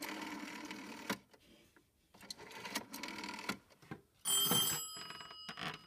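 A telephone on a PBX system rings after the second party is dialed, with bursts of buzzing ring separated by short gaps, at moderate level.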